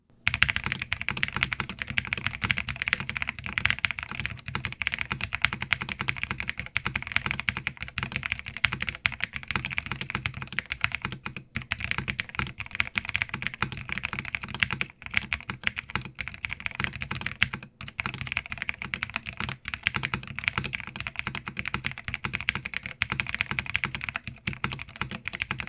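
Steady, continuous typing on a Wind Studio X65 mechanical keyboard, dense clacky keystrokes running unbroken for the whole stretch, close and fairly loud with no voices.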